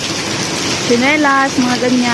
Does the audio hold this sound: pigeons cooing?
no